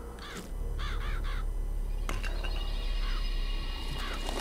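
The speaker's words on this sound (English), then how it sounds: "Press to summon murderous crows." Murderous crows summoned in the video game Bioshock Infinite caw in several harsh bursts, a quick group early on and more later, over a loud, steady game backdrop.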